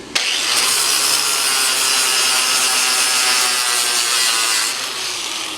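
Abrasive flap disc grinding down welds on a gas tank for a 4WD Daytona, a loud, steady high-pitched rasping drone that runs nearly unbroken for several seconds before easing off slightly at the end.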